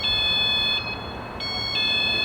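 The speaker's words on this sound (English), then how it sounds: "Keep it pressed down, the alarms are beeping" A motorhome alarm beeps loudly in high, steady electronic tones during remote pairing, briefly dipping twice before resuming, with no voices.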